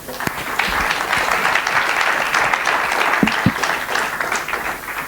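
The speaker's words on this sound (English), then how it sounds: "Give him a big round of applause again" An audience at a Linux conference talk claps loudly and steadily for several seconds, a dense, even patter of many hands filling the room.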